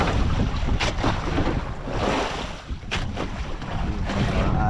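Strong northeast monsoon wind buffets the microphone in gusts by a lake, with a rushing, broadband roar like open water and no voices.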